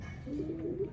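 A male pigeon coos in a loft, one soft low rolling coo rising and wavering briefly, fairly close but quiet.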